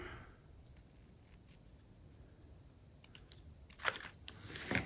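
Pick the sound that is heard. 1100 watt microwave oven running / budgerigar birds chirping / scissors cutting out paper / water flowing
scissors cutting out paper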